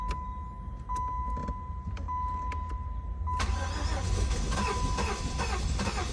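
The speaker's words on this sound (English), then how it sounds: "it's trying to start, but it's a very old car" A 1999 Chevrolet Monte Carlo sits with a steady high chime sounding over a low idle-like rumble, then the engine cranks and churns noisily without catching.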